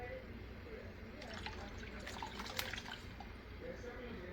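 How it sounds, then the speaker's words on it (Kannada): Water is poured into a ground paste of coconut and amla for gooseberry rasam, a soft, close trickle and splash under a steady background hiss. "ನೀರು ಹಾಕ್ತಾಯಿದ್ದೀನಿ"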